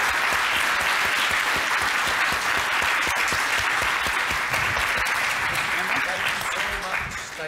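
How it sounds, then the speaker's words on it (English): Conference audience at an AI summit applauding the panel, a full, sustained round of clapping from a large crowd lasting over seven seconds before starting to fade. "Can we have a hand of applause for our panelists?"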